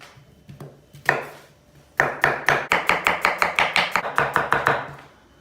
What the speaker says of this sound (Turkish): Şimdi ıspanağımızın içine bolca da bir soğan doğrayacağız.